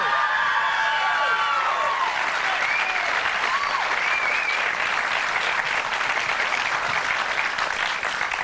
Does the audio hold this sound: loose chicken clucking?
no